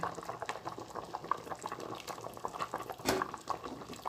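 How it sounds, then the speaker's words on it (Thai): Pork leg stew simmers in a pot, a steady bubbling and popping of boiling liquid close by, with a few louder bursts and clinks along the way. "ป้าก็จะเคี่ยวไปเรื่อยๆก่อนเนาะนะฮะ"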